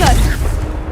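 A blasting spell detonating in a video game: a sharp burst at the start with a brief whoosh, then a rumbling tail fading away, partly under a voice.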